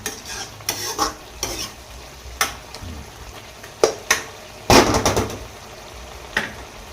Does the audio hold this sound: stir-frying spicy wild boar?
yes